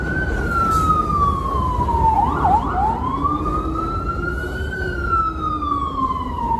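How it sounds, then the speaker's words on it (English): A loud wailing siren sweeps up and down continuously over steady street traffic noise, close by and persistent, in Bensonhurst, Brooklyn. "Sirens going off."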